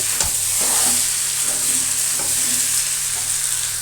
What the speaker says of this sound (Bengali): ডিমটাকে দিয়েও আমি ভালো করে নাড়াচাড়া করে নেব